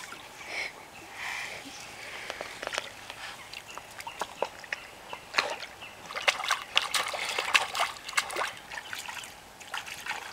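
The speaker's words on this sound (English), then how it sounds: "Splashy, splash, splashy, splash." Water splashes and trickles in scattered, irregular bursts, faint at first and then busier and louder toward the end, with soft voices in the background.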